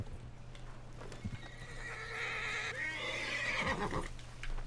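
A horse in a Western video game gives a long, loud whinny that rises and falls, with a couple of hoof clops and a low steady hum beneath.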